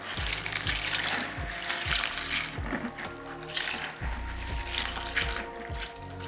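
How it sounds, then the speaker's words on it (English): Agushi melon seeds are washed in a bowl of water by hand, with repeated sloshing swirls and splashes in a loose rhythm, close and steady, and no talking. "So I'm going to wash this about 2 or 3 times before I blend."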